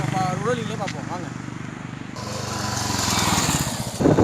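Royal Enfield Classic 350 BS4 single-cylinder motorcycle running, a steady low engine thrum with wind noise that swells as the ride picks up speed, heard up close.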